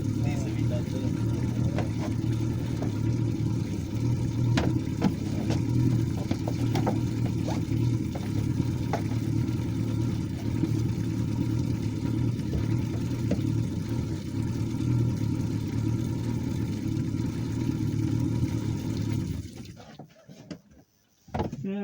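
A boat engine runs loudly and steadily with a low, rumbling chug and some clattering, then drops away abruptly near the end, while people talk over it.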